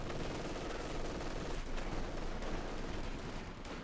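Machine gun fire in the strategy game Company of Heroes 2, dense rapid bursts of automatic gunfire layered with battle noise, loud and sustained throughout.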